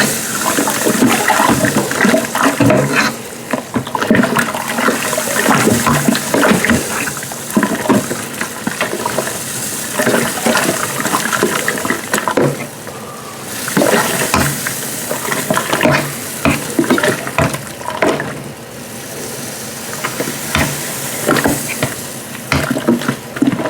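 Malted grain is stirred into hot water in a pot for a single malt whiskey mash, giving loud, continuous sloshing and thick churning with irregular wet splashes that rise and fall over the stirring.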